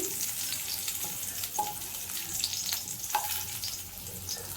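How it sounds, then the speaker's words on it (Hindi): Potatoes sautéing in reddish-brown oil in a pan, a close steady sizzle and crackle broken by several distinct knocks and scrapes of a spoon against the pan, with no voices. "अब मैं इसमें आलू डाल दूंगी। आलू को भी मैं थोड़ा सा सौते कर लूँगी।"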